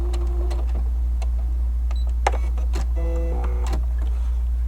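Sewing machine back stitching a fabric seam, a steady low motor hum under brief whirring stitch bursts and small mechanical clicks, close and continuous.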